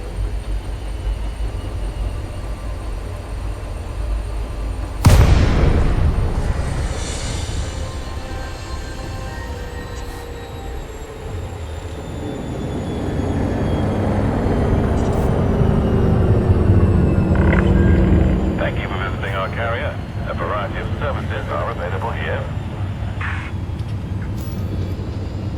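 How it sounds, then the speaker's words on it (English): Spaceship in Elite Dangerous dropping out of Super Cruise: a sudden loud whooshing boom, then a sustained low engine roar that swells and fades with faint mechanical tones, no talking. "Now we're dropping out of Super Cruise"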